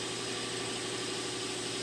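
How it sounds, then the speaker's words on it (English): An original Bombardier engine runs at a steady idle, a continuous mid-to-low rumble with a constant hum and vibration, close and unbroken, with no talk over it. "This is one of the original Bombardier motors."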